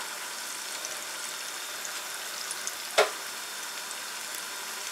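Plantain slices fry in oil for kelewele, making a soft, even, low-level sizzle throughout, with one brief clack of a utensil partway through.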